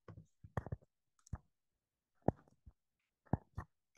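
Computer mouse button clicks while setting up a Jupyter notebook on a Mac, a series of sharp, close clicks in small clusters spread across a quiet background.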